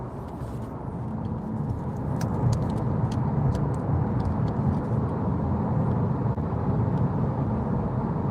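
Citroen e-C3 Aircross electric car cruising on a motorway at night, a steady loud road and wind roar with low tyre rumble throughout, no talk.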